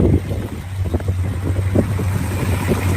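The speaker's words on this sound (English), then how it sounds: "there's the engine, sounds good. Runs nice and smooth." A 1987 GMC Caballero with headers runs smoothly nearby, its low, even engine rumble mixed with wind buffeting the microphone and no talking.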